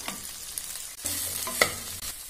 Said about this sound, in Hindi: उसको ऐड करेंगे और चम्मच अच्छे से मिक्स करते हैं